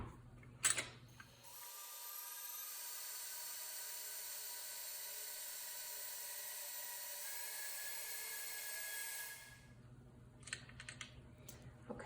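An electric mixer whips egg whites and sugar into a thick, shiny meringue for a one-stage foam angel food cake, its steady high whirring motor running loud and unbroken for several seconds between brief clatters at the start and end.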